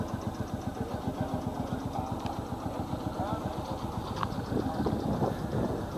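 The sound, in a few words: old farm tractor engine running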